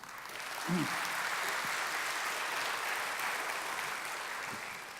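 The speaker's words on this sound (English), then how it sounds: "can we have one more round of applause for our partners?" Audience applause for partners at a sixth-anniversary corporate gala, a steady wash of clapping that holds evenly for the whole stretch and tapers slightly at the end, with no talk over it.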